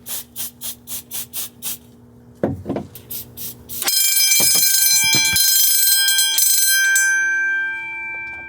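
Smoke detector of a car-mounted fire alarm system set off by real smoke: a series of quick bell-like beeps, a few clunks, then a loud continuous high-pitched alarm tone that holds steady before fading slightly.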